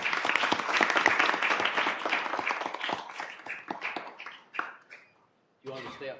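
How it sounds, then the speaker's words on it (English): An audience at a town council meeting applauds, a dense burst of clapping that gradually thins into scattered claps and fades out, with a voice speaking briefly at the end. "we're going to give you a round of applause for joining us"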